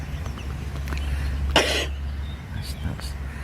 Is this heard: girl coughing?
yes